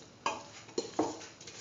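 A spoon scraping through curried green peas and beetroot rice in a pan, three or four distinct soft knocks and scrapes spaced apart, faint and close.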